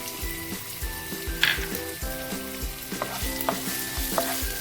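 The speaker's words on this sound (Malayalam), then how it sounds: "ഒന്ന് ചെറുതായിട്ട് വാടി വരണം അതുവരെ ഇളക്കി കൊടുക്കാം" Chopped garlic, ginger and green chillies sizzle in hot oil in a pan, stirred with a spoon that scrapes and taps rhythmically, close and steady with no talk.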